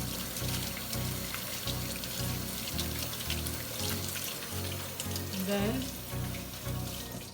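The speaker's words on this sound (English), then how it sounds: "I will be washing my hands, so that is very essential" A kitchen tap runs steadily while hands are washed beneath it, a continuous close hiss of water with faint splashing.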